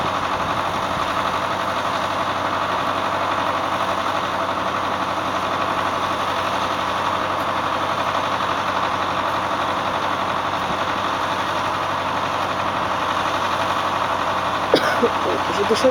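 A tractor engine idles steadily while being warmed with an open flame in a residential courtyard, a continuous mid-to-low drone filling the whole stretch, with a few faint clicks near the end.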